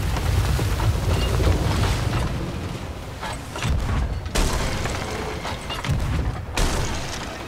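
Repeated booming cannon fire from pirate ships in the video game Sea of Thieves, loud and dense, with heavy blasts and rumbling bursts layered over one another throughout.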